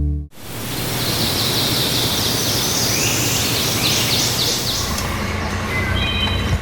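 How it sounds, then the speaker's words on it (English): A wood thrush's fluting song phrases repeat over a steady, loud wash of outdoor noise, a little distant, with no talking. "the sound of that wood thrush"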